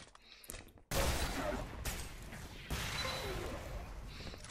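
A sharp, loud weapon blast in the Xonotic arena game, then a roaring burst of sustained energy fire with another hit partway through, all close and without voices.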